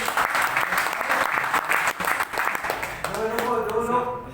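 An audience in a hall applauds a speaker at a network marketing meeting, dense sustained clapping throughout, with voices rising over the applause toward the end.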